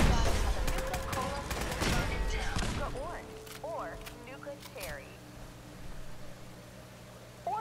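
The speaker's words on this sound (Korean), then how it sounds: "포탑 소리 났는데?" Rapid turret gunfire bursts from a low-level automated turret in the video game Fallout 4, loud bursts in the first few seconds before fading into quieter chirps and tones, with voices talking over it.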